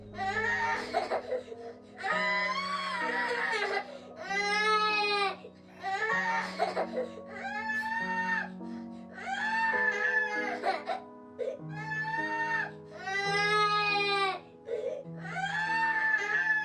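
A young child in the video game That Dragon, Cancer screams and cries in repeated loud, wailing bursts over a steady low musical drone, growing more intense as it continues.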